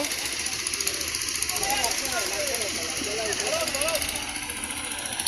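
A dredger's diesel engine runs steadily and loudly while a sunken ferry boat is raised at a river ghat, a dense continuous rumble with a roughly even level throughout. Faint higher wavering tones sit over it.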